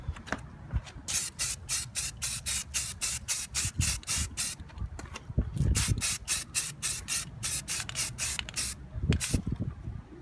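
Etching primer is sprayed from a rattle can onto Dodge Challenger wheels in a rapid series of short, evenly spaced hissing bursts, close and fairly loud, with no voices.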